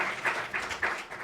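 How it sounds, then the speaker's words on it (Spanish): An audience at a talk on copyright gives a round of applause, a short soft burst of clapping that swells in a few quick pulses and fades within about a second. "una ronda de aplausos"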